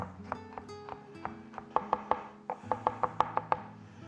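A kitchen knife slices garlic cloves on a cutting board, a run of crisp, evenly spaced taps and chops, close and fairly quiet, speeding into a steady rhythm.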